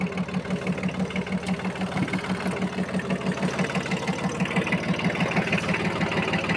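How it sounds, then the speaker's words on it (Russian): A small Yanmar AF18 Japanese mini tractor engine idles steadily on a cool day, with a fast, even chugging pulse close by and no voices. "Завелся сразу в холостые обороты."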